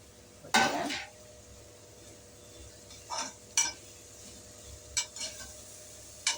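Chopped coriander sautés in a pan for mutton biryani. A quiet low sizzle runs underneath, broken by a few sharp spoon scrapes and clinks against the pan, with the loudest one near the start.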